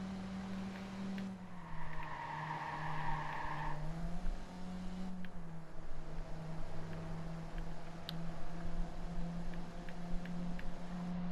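Car driving in the video game Watch Dogs, with a steady engine drone throughout, a higher whine for a couple of seconds early on, and brief tire skids or squeals over continuous road noise.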